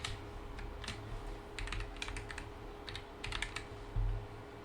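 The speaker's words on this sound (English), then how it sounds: "So I'm just gonna type my email." An email address is typed on a computer keyboard, with soft close key clicks in short bursts and brief pauses, faint and with no talking.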